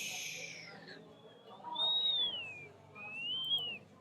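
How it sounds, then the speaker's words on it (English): A person whistles close into a microphone during a livestream: two clear, smooth gliding tones, the second rising and falling, with a slight echo over a quiet room background. "I like the way my whistle sounds in the mic"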